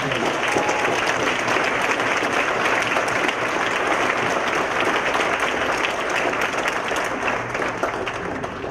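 Audience applause welcoming a speaker named Freya Martins onto a stage, a steady, dense wash of clapping that holds at an even level for the full stretch without voices.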